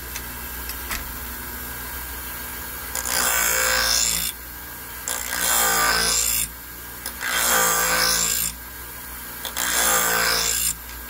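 Shear blade being sharpened at an angle, grinding metal off the edge: four loud, steady rasping grinding passes of about one to two seconds each, separated by short quiet gaps, with no talking.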